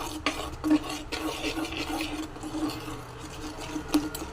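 Coconut milk is stirred in a bowl to make curd, giving soft, repeated scraping swishes and light clinks in an uneven rhythm, close and fairly quiet.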